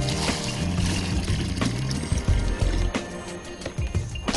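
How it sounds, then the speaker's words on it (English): Water is tipped into a dug hole for a brick letterbox footing just before rapid-set concrete goes in, giving a splashy, gurgling pour over steady outdoor background noise with a few clunks. "all we need to do is literally throw a little bit of our water in the hole"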